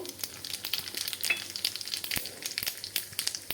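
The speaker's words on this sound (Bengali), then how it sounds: "ওই তেলেই আমি এখন এই জিরাটা ঢেলে দেব" Cumin seeds crackling and sizzling in hot oil, with sharp scattered pops over a steady close hiss.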